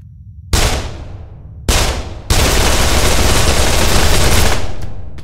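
Explosive rounds firing in the People Playground sandbox game: three loud blasts, two short separate bursts, then a sustained roaring barrage that fades slowly toward the end, with no talking.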